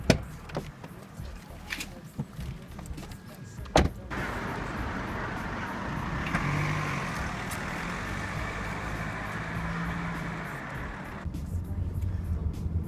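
A BMW 320d E46 diesel car pulls away, heard from inside the cabin: a low, steady engine hum and road rumble that swell slightly, with a few faint clicks at the start.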